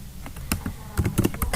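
Keys clatter in short irregular bursts as someone types on a computer keyboard while entering hospital patient data, the taps close and fairly faint with no talking.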